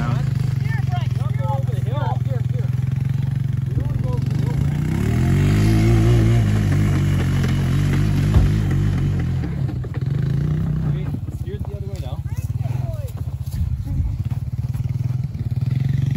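A quad ATV engine revs loudly and close during a stunt jumping a minivan until it is destroyed, with a rising and falling throaty drone throughout and people talking over it.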